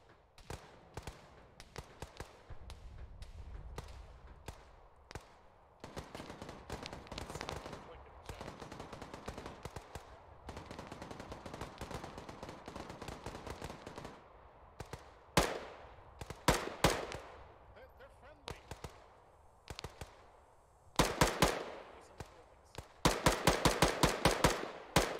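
Video game Arma 3 combat with gunfire: many rapid shots and bursts run through most of the clip, some close and loud, with denser volleys near the end.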